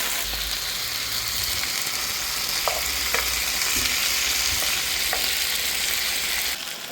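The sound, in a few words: stirring potatoes frying with onions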